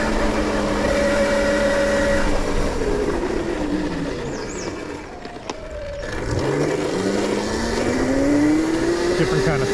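An electric RC car run at full throttle on gravel along a rail bed trail, its motor whining loudly and steadily with gliding pitch changes, briefly easing off before speeding up again over the crunch of stones.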